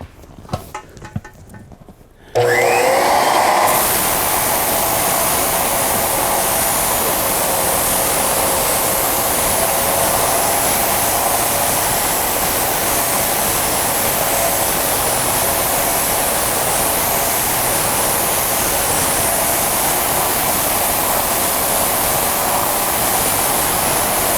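A floor edger dolly with radiator attachment and shorter nose, hooked to a vacuum hose, switches on after a few seconds of quiet handling, then runs as a loud, steady whine and rushing hum that holds unchanged to the end.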